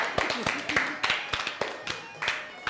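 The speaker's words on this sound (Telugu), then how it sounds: "రండి శ్వేత గారికి గట్టిగా క్లాప్స్" An audience at a women's entertainment show applauds the winner of a game, a run of close, sharp claps in an uneven rhythm that carries on without pause.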